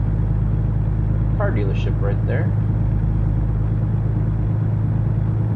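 Steady low engine drone of a truck cruising down an American road in a trucking simulator game, a constant rumble that sits under a voice chatting briefly.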